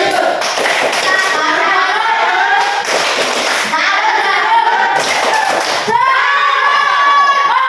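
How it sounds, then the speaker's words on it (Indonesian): A classroom full of children claps and cheers in a religious education lesson, with dense, steady hand-clapping and excited shouts rising in waves, plus a louder burst near the end. "Ya, kita berikan tepuk tangan buat Anita."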